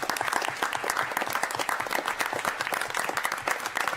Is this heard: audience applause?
yes